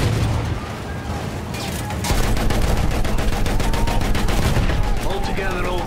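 Rapid, loud bursts of gunfire from a gun in the Battlefield 1 video game hammer in a dense, regular rhythm over a rumbling battlefield backdrop for several seconds.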